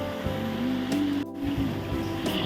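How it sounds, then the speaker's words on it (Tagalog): Water from small waterfalls pours into a rural creek in the province, a continuous close splashing rush with a low steady hum running underneath. "yung lagaslas ng tubig galing sa bukid tapos pupunta rito sa ilog"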